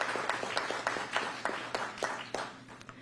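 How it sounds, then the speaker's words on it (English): A small round of applause at a school board meeting: scattered, fairly quiet hand claps at a steady pace, heard from a distance in a meeting room. "So we'd like to do a round of applause."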